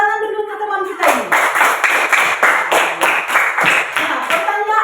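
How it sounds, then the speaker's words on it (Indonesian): A small group of classmates claps in a classroom, with individual hand claps close and distinct in a loose, uneven rhythm after a short stretch of talking. "Tepuk tangan dulu ke teman kita ini."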